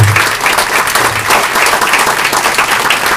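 Church congregation applauding the Lord during a Spanish-language sermon: steady, dense clapping from many hands fills the whole stretch, loud and close, with no voices rising above it.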